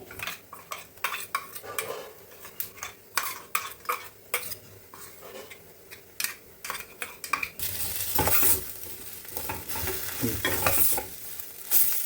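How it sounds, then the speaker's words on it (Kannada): Ground masala paste sizzles and fries in a pan for a vermicelli pulav while a utensil stirs and scrapes against the metal in quick, uneven strokes. The frying grows louder and more continuous toward the end, with no one talking. "ನಾನೀಗ ರುಬ್ಬಿರೋ ಮಸಾಲ ಹಾಕ್ಕೋತಾ ಇದ್ದೀನಿ"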